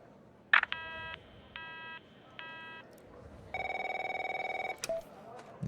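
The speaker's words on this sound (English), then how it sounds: "My phone's ringing off the hook here" In the video game The Operator, a telephone rings with three evenly spaced electronic trills, then a longer buzzing ring and a few sharp clicks, close and clear against a quiet background.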